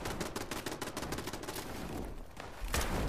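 Rapid gunfire in Fallout 76, presumably from a sniper rifle, a dense run of close loud cracks for about two seconds, a brief lull, then another heavy burst.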